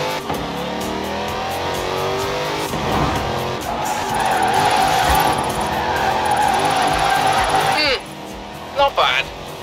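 A car drifting in Forza Horizon 4 keeps its engine roaring while its tires squeal and skid through a long slide, loud and close, with someone talking over it, then a brief lull and a couple of bumps.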